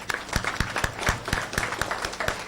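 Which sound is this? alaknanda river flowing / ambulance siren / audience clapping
audience clapping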